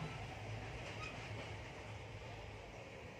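Steady rumble and rattle of a moving passenger train heard from inside a carriage, a continuous dense roar with faint clickety-clack of the wheels over the rails and no talking.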